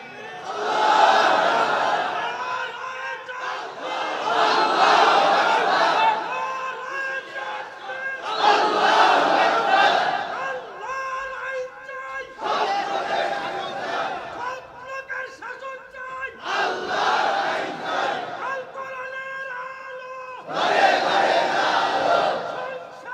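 A large crowd at an outdoor Islamic religious sermon gathering shouts slogans in unison, with repeated loud rhythmic bursts of massed voices separated by short pauses.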